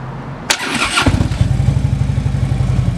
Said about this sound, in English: I'm gonna go ahead and start it up so we can hear it run.